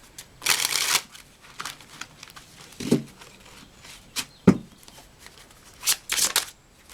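Healing oracle cards are shuffled by hand in several short, crisp riffling bursts with brief quiet gaps between them, close by with no talk.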